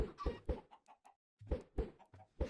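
Chickens in Minecraft cluck in a quick run of short, fairly loud calls, then a brief pause and another burst of clucks, with eggs being thrown at them.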